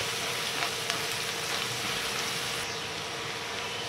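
Chopped onions with salt frying in oil for Maharashtrian kande pohe give a steady, close sizzle that runs evenly throughout with only faint clinks, no voices.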